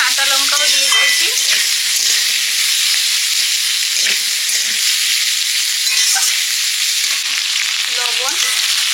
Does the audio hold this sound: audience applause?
no